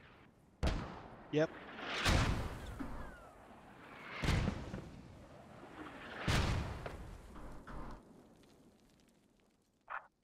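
Mortar shells fire and land in a military video game, giving a few heavy booming impacts several seconds apart that rumble and fade. A brief voice is heard between the blasts.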